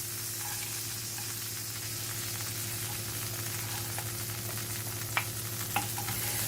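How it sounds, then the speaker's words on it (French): Chopped onion fries in butter in a heavy-bottomed pan, a steady close sizzle under a low hum, with a couple of faint scrapes and taps as it is stirred. "Je vais faire revenir l'oignon jusqu'à ce qu'il devienne translucide"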